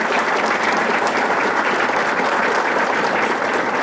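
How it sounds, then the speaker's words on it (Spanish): An audience applauds at a government title-handover ceremony with a steady, dense wash of clapping that holds throughout at moderate level, no voices over it. "les pido un fuerte aplauso para el señor gobernador"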